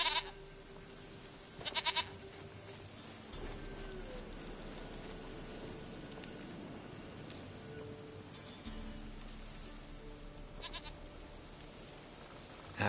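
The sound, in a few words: goat bleating in the video game The Witcher 3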